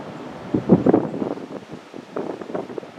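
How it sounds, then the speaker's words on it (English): Wind blowing outdoors in the Ozarks of Missouri, gusting and buffeting close against the microphone with uneven swells, no voices. "the wind is blowing"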